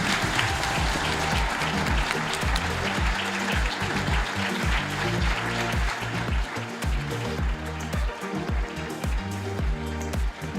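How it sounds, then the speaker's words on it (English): A hall audience at an apprenticeship awards ceremony breaks into loud, sustained applause for a winner, with rhythmic music thumping beneath the dense clapping. "our winner of the Intermediate Apprentice of the Year Award 2024 is Joshua Jones from Milestone."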